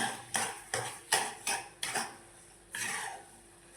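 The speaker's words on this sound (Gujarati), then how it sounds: "હવે આપણે મોરસ નાખી દઈશું. હલાવી દઈશું, મિક્સ કરી દઈશું." A spoon scrapes and clacks against a pan while sugar is stirred into rajgira (amaranth flour) sheera, with about seven distinct strokes in a steady rhythm, close and fairly loud, and no talking.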